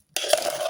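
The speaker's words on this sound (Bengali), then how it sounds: "এখন আমি সবটা গাজর এভাবে ঢেলে দিব," Grated carrots tipped into a pan with melted ghee for carrot barfi, a sudden loud clatter and scrape of metal followed by a sustained sizzling rush, close and without talk.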